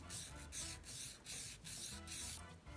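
Nail file rasping back and forth across an acrygel nail extension while shaping it, a steady rhythm of short close scraping strokes about two per second, with no talking.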